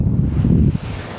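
Wind blowing across a golf course and rumbling against the microphone, a loud low gusty roar that swells briefly and then settles to a steadier, quieter rush.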